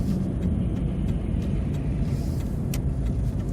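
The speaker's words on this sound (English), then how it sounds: "Another John Deere's 444 loader clearing snow." A John Deere 444 wheel loader clears light snow in Charlottetown, its engine a steady, close, droning rumble with a faint whir above it, and no voices.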